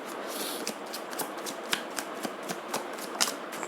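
Tarot cards being shuffled and drawn during a reading, a steady run of close, soft riffling flutters with sharp snaps of single cards landing, no talk over it.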